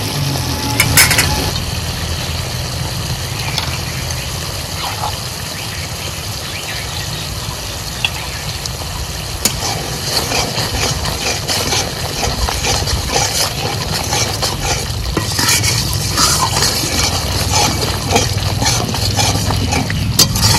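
Masala spices with salt and turmeric fry in oil in a pan with a loud, continuous sizzle and crackle, interrupted now and then by scraping and stirring, close up and without talking.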